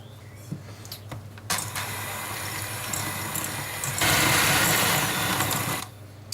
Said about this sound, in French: Et mélanger à l'aide d'un batteur ou ce que vous avez.